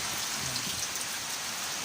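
Heavy typhoon rain pours down steadily during Typhoon Kristine in Camarines Sur, Bicol, making a dense, even hiss with no breaks and no voices.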